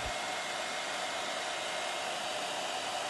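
A hair dryer set to cool air blows over an oil-soaked bird being cleaned, a steady, fairly quiet whooshing drone that runs without change from start to finish.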